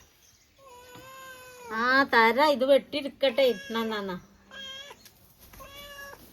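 A cat meows several times in drawn-out, wavering cries, while a person speaks nearby.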